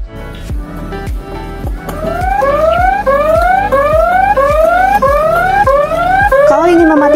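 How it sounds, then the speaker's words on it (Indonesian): A Viar Q1L electric scooter's alarm, set off from its remote, wails in a loud repeating rising-tone siren pattern with rapid chirping pulses, continuous and close, no talking over it. "Untuk mengaktifkan alarm, kalian tinggal tekan tombol gembok 2 kali yang ada pada remote"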